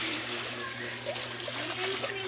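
A boy jumps into the sea and splashes over a constant wash of water and surf, while people talk nearby.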